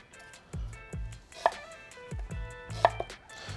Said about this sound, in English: Start by dicing a couple of onions.